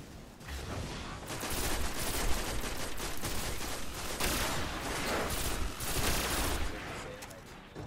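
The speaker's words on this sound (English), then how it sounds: "This is my secondary pulse rifle." Pulse rifle fire in the sci-fi shooter Destiny, a dense, loud run of rapid shots and bursts that carries on almost without a break.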